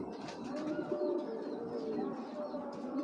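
Domestic pigeons coo softly close by, a continuous overlapping murmur of low throaty calls with a few faint chirps, with no talking.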